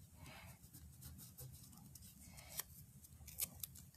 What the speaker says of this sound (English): I'm going to just trim it down with my scissors.